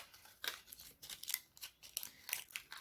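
Scissors snip through a cardboard paper roll being recycled into a napkin ring, giving quiet, crisp cuts in an irregular rhythm close by.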